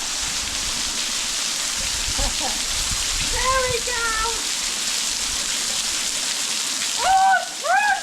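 Waterfall water pouring down as a woman showers beneath it in a gorge along the Gibb River Road: a loud, continuous rushing hiss close by, with short voiced exclamations and brief talk breaking over it.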